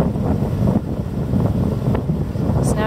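Strong wind buffets a sailboat at sea after heavy seas near Pylos, Greece, a steady loud roar of wind on the microphone with wash of water underneath, no talking.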